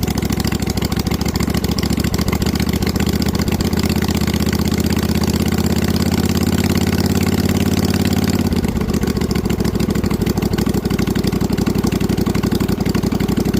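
A snow mower engine runs steadily at a fast idle after the choke is shut off, loud and close, with a slight change in tone partway through and no talking.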